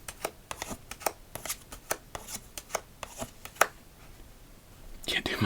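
Tokidoki-themed playing cards shuffled and handled for solitaire, a close run of crisp riffling and snapping flicks in quick bursts, then a pause before a softer rustle near the end, no talk.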